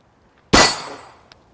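A single handgun shot fired during recoil testing, one sharp loud crack that decays quickly, followed by a faint small click.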